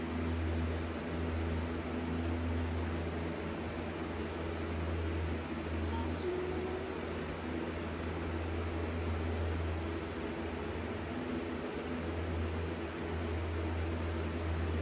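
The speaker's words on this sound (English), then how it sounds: "I got two fans running" Two mechanical fans running in a garage make a steady, even whoosh with a low hum, constant and moderately loud for the whole stretch without voices.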